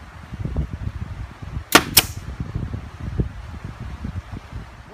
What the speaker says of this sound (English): we're just going to attach them with a staple gun onto the back of our window frame